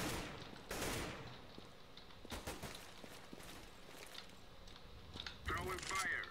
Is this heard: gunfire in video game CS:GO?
yes